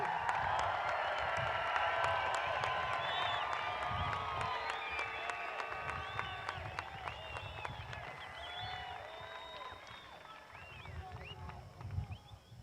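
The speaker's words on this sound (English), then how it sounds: "Give them another round of applause" Commencement audience applauding and cheering throughout, steady dense clapping with whoops and hoots, gradually thinning toward the end with a late burst.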